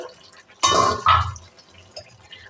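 A metal lid is lifted off a pot of simmering mixed vegetable curry on a gas stove: a sharp clang, then a second ringing knock about half a second later, over a quiet kitchen background.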